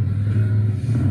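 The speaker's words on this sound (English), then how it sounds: "Those little revs that we hear" A motorcycle engine revs at a racing competition, giving a loud, close, steady low engine drone with slight rises in pitch during the brief moment.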